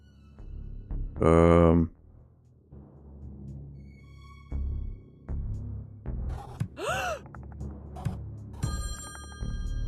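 A video game telephone rings in one loud, brief electronic burst, followed by scattered game sound effects and short beeping tones.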